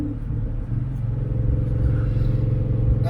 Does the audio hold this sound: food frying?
no